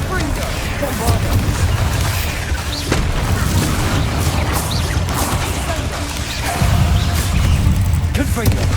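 Bombardo spell explosions in Hogwarts Legacy burst through continuous heavy combat noise, with dull booms rising at intervals over a dense, busy battle din.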